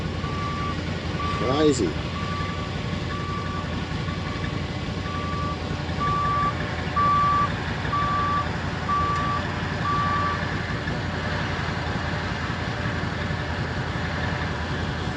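A vehicle backing up at a farm during planting sounds a steady series of evenly spaced reversing beeps over a low engine rumble, moderately distant, with a brief spoken remark near the start.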